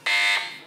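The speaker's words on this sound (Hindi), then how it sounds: "बजर बजाई है कराची मेट्रोपॉलिटन ने।" A quiz show buzzer on a children's Ramadan religious quiz program gives one short, loud, harsh electronic buzz, heard alone and tapering off quickly.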